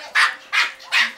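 A dog barks three times in quick succession, close and loud, with short sharp yips evenly spaced and no talking over them.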